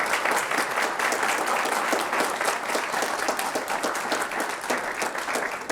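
Steady, dense applause from a sizable audience, loud and continuous throughout with no voices standing out.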